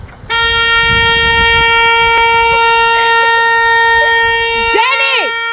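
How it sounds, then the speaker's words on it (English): A loud car horn blares in one long continuous honk, close by, ending with a wavering pitch drop as it releases. "My fucking dog honks the horn at me when I take too long"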